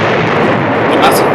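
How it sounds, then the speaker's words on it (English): A massive bomb explosion sound effect, a loud, sustained broadband roar and rumble that fills the whole clip with no clear break. "The massive explosion that followed blew a chunk in the earth 15 miles deep and more than 60 miles wide."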